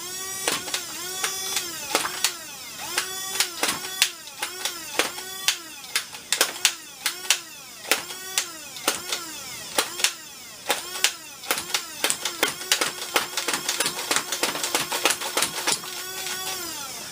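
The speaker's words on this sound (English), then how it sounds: "I'm going to turn over here and fire it into my dart catching net." Worker Hurricane foam dart blaster firing darts into a catching net, with repeated whirring bursts and sharp pops, spaced out at first and then coming in quicker succession.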